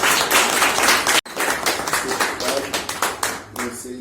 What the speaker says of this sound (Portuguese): Palmas a Jesus.